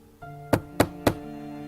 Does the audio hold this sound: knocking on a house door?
yes